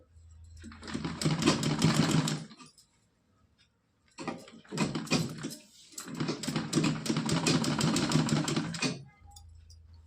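A sewing machine stitches a cotton dress for a Laddu Gopal idol in two long, steady runs with a brief pause between them, close and clear with no talking.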